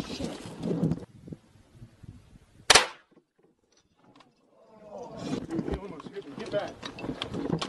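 A single sharp sniper shot cracks out in Warzone during a tunnel military mission, a loud isolated report between stretches of players talking.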